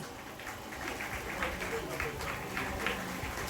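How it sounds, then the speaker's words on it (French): Audience applause at a French ceremony honoring champions, greeting an elected city official: dense, steady clapping from a crowd, fairly even in loudness throughout, with a faint voice beneath. "Je vous demande d'applaudir Madame Sylviane Labéjoff."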